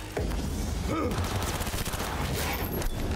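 SMG fire in Cyberpunk 2077, a loud, continuous rattle of rapid shots close up, running steadily for the whole stretch with no voices over it.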